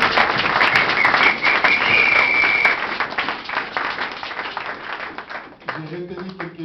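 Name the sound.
church congregation applauding for the Lord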